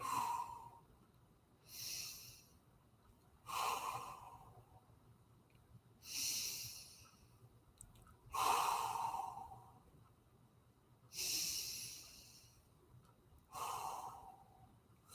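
Slow, deep breaths during a forearm stretch in a fitness conditioning session, about seven even inhale-exhale cycles spaced a couple of seconds apart. The breathing is soft but close, with no talking.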